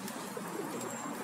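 Pigeons feeding beside a rubbish bin give soft, low cooing calls, close by and murmuring over a faint outdoor background.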